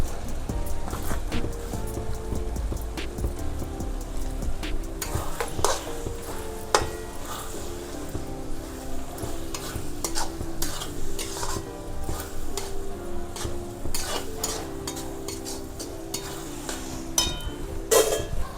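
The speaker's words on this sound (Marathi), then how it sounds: "आता ही शिमला मिरच बटर टाकून परतून घेतली होती ती टाकूया." Capsicum sautéed in butter is stirred into pav bhaji spices frying in a pan, with steady scraping and sizzling and occasional clinks of utensil on metal throughout.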